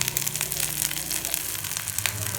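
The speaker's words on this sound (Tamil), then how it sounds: "ஸ்கொயராக இந்த மாதிரி நறுக்கி வச்சுருக்கிற வெங்காயம் போட்டுக்கலாம்" Square-chopped onions and finely chopped garlic fry in hot oil in a pan, a steady close crackling sizzle throughout with faint stirring clicks.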